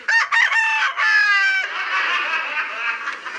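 A rooster at a chicken seller's crows loudly and close by, a single full cock-a-doodle-doo with a stuttering start, then fades into low background noise.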